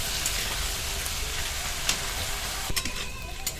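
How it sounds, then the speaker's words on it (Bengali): Taro roots (kochurmukhi) frying in oil until reddish: a continuous close hiss and crackle with a few louder spattering bursts near the end, no talking. "কচুরমুখিটা আগে খালি করায় বেশ কিছুক্ষণ লাল লাল করে ভেজে নিতে হবে"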